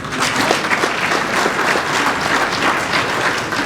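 Dense, loud applause from a large crowd at an opening ceremony rolls on without a break, many hands clapping at once with no clear rhythm.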